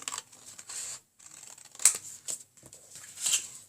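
Scissors cutting a strip of paper about two inches wide to make a paper feather, heard as a few close, crisp snips with quiet pauses between them.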